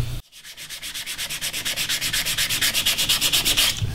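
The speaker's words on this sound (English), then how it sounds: "I'm just finishing up sanding" Small wooden clock pieces being sanded by hand, a steady run of rhythmic back-and-forth scratching strokes, close and fairly loud, about six strokes per second.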